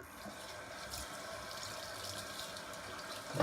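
Water running steadily from a bathroom tap into a sink while someone washes up after a wet shave, a constant close splashing flow with no talk.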